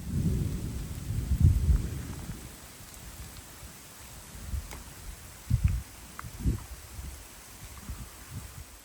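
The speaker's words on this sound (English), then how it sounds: "the storm's right above me" A thunderstorm with rain over a backpacking trail in the tree line, deep rumbling thunder rolling close overhead in several heavy swells and thuds over a soft, steady patter of rain.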